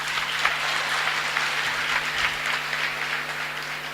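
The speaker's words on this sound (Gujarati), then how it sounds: "પાડો તાળી." Audience applause at a school event in Surat, a steady wash of clapping from a crowd that holds at an even level throughout.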